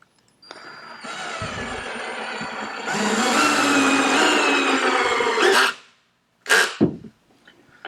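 A power drill drives screws into wooden step stringers, whirring steadily and then rising in pitch before cutting off, followed by a short burst of clutch ratcheting as the screw seats.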